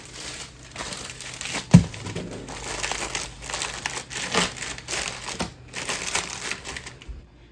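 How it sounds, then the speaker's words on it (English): Large frozen ice packs being layered into the bottom of an extra large cooler, heard as close crinkling and crunching handling with a sharp knock near the start, no talk. "I have these really big ice packs that I froze overnight. And I'm gonna layer that on the bottom."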